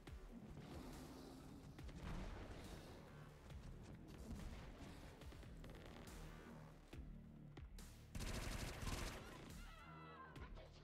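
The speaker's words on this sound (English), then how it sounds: "Covering fire is a nasty ability." Heavy video-game gunfire from XCOM 2's covering fire ability during a terror mission: dense, continuous bursts of shots and booms layered over a loud battle score, with a sharper burst near the end.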